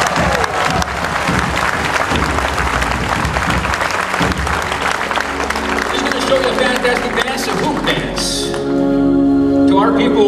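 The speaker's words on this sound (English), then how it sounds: "Let's give her a round of applause." Audience applause and crowd noise for a Grammy-winning hoop dancer at a live performance, dense clapping filling the first eight seconds before giving way to music with drums.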